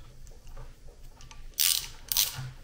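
A ratchet tightens a bolt on a Honda CBR 1000 engine crankcase during a teardown, giving two quick, close bursts of clicking after a quiet stretch, with no talking.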